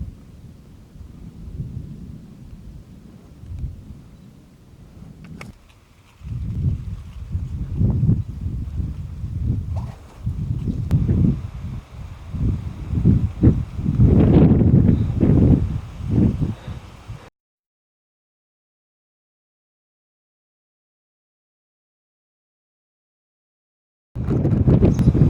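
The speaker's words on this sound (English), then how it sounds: "Severe storms coming through northern Indiana this morning." A severe thunderstorm with strong winds in northern Indiana: wind roars and buffets in rising gusts, and deep rumbles swell to a loud peak before the sound cuts out.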